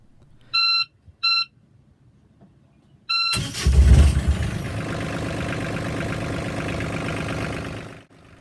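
Volvo marine boat engine in an engine bay: three short electronic beeps from the systems controller, then the starter cranks and the engine catches, settling into a steady, loud idle before cutting off abruptly near the end.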